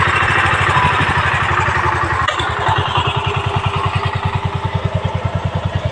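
A tractor engine runs loud and close, a heavy rhythmic chugging that settles into distinct, evenly spaced pulses toward the end.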